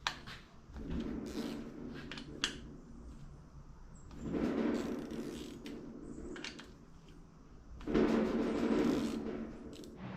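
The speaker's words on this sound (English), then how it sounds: "I've just got a 10 mil socket and I'm gonna run through here and back all of those off" A 10 mm socket and ratchet backing off rocker arm nuts on a Honda D-series cylinder head, with close creaking, clicking turns in several bursts separated by quieter handling.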